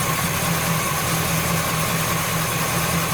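A Buick engine with a Quadrajet carburetor idles with a steady low rumble and faint vibration, constant and close, with no voices.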